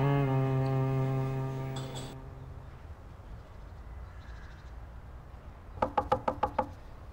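Knuckles rap on a door in a quick series of about six sharp knocks near the end, following a fading musical tone and a quiet room.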